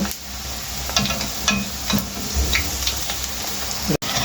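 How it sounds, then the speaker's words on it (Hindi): Potato chip slices fry gently in oil over low heat, a soft steady sizzle with occasional stirring clicks and scrapes, close up and without talk. "तो ऐसे आप हल्की आंच पे इसको फ्राई करेंगे तो फिर ही जाके खस्ता होंगे"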